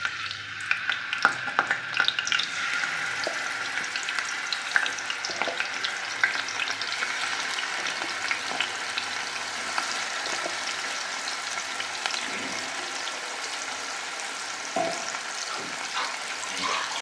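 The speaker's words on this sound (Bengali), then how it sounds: "এই তেল দিলাম মাছ ভাজার জন্য" Rohu fish frying in hot oil in a pan, with a steady, continuous sizzle and crackle throughout, close and fairly loud, with no talking.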